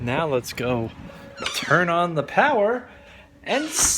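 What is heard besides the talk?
No everyday noise stands out behind the speech.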